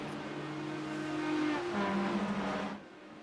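A Corvette race car in the M category laps at Le Mans, its engine holding a steady tone, rising and shifting pitch mid-run before cutting off abruptly, heard moderately close with no talk.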